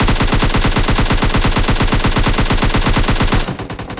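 An automatic weapon in the battle royale game PUBG fires a long, rapid, evenly spaced burst, loud and close, before cutting off into quieter trailing shots and ambience.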